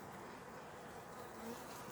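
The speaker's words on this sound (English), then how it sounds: "And they're learning how to use their upper entrance here. And there's a couple of guard bees watching." Honey bees buzz in a soft, continuous drone at a backyard hive entrance, steady and faint with no talk over it.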